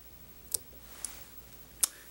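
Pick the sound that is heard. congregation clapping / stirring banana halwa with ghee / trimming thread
trimming thread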